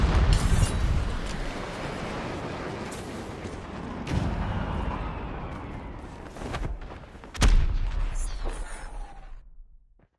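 Dense video game battle noise from a Top 5k legendary lobby: dull explosive booms and gunfire pile into a continuous loud rumble, with sharper impacts standing out near the start and around the middle.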